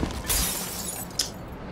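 Glass shattering in Dishonored, one sharp crash followed by a short tinkling of shards and a second smaller break about a second later, heard alone.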